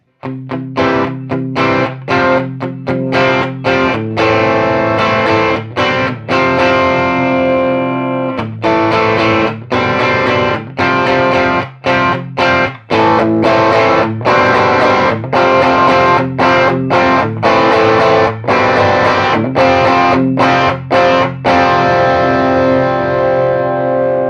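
An electric guitar through a Messner overdrive pedal, with light, gritty overdrive, strums and picks chords in a lively rhythm, loud and close, with a touch of ambience and no talking.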